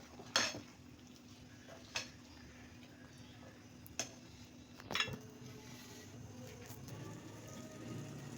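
A spoon scrapes and clinks against a pan while mixed vegetables including cabbage are stirred, a few sharp metallic taps spaced apart over a soft, quiet background.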